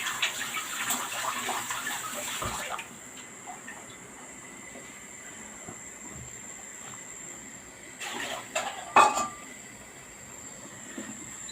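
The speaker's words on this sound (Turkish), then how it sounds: "suyumuz kaynıyor" Water boils in a cooking pot, ready for poaching stuffed içli köfte. It gives a steady rushing, bubbling hiss, with a few louder clatters and splashes near the end and no voices.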